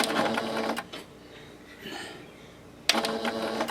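A sewing machine stitches the hem of a pair of pants in two loud, close, steady bursts, separated by a quieter pause.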